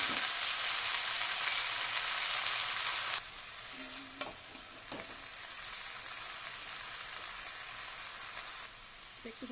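Bottle gourd greens and stalks with potato and pointed gourd sizzle loudly in hot oil with dried red chilli, then the sizzle drops to a softer steady fry, with a few clinks of a stirring utensil.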